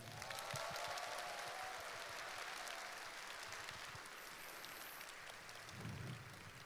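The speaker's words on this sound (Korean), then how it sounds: "큰 박수 한번 보내주세요" Concert audience applause at a navy-hosted outdoor music event, a steady wash of many hands clapping at a distance, fairly soft and even throughout with a brief low rumble near the end.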